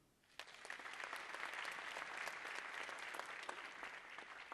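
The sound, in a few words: audience applause for Alyssa Hickey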